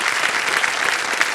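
Studio audience applause on a TV quiz show set, a dense steady wash of clapping for a contestant from Delhi, fairly close and filling the whole short moment.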